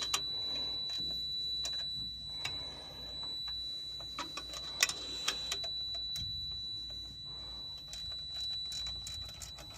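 A socket wrench ratchets on a bolt of a TPS-style block heater for a generator, giving scattered clicking ticks near and fairly quiet over a low workshop hum, with a steady high whine throughout.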